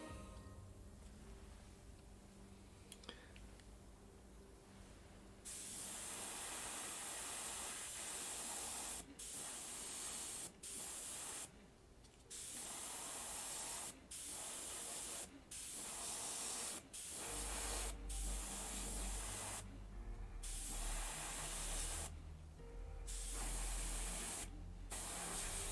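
Airbrush spraying paint on Khorne Daemon miniatures, a soft hiss that starts a few seconds in and comes in repeated bursts, stopping briefly between passes before starting again.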